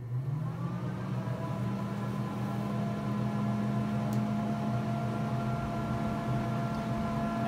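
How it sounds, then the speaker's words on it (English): Fans on a Grilla Grills Silverbac pellet grill spin up, a steady humming whir that rises slightly in pitch at the start and then holds at an even, close, continuous drone. "As you can hear, the fans turning on, and it should be heating up"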